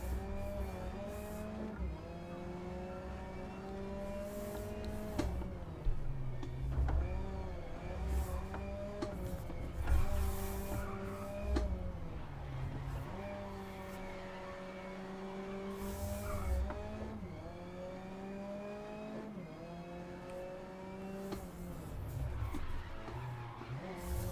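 Race cars in Grid Legends roar past with rising and falling engine revs, gear shifts and occasional tire squeal, a steady continuous motor drone throughout.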